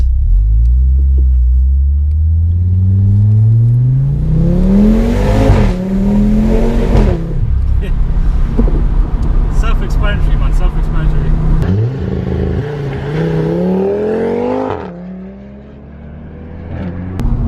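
Audi RS3 with a Milltek exhaust, lowered, accelerating on the road: deep engine rumble rises through the gears with revving climbs and shifts, loud and close inside the cabin, while people talk briefly over it.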